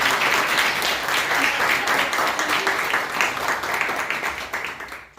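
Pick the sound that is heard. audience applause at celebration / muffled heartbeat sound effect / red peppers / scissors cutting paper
audience applause at celebration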